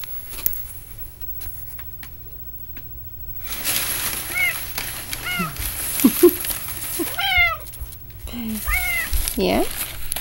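A cat meows several times close by in rising, drawn-out calls over a soft background hiss, and a person speaks quietly nearby.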